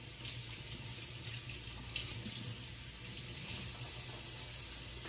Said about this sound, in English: So I'm just gonna rinse them under the sink.